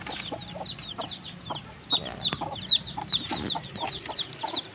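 Backyard chickens cluck and chatter steadily near the microphone, with repeated short calls and a few louder squawks over faint outdoor background noise.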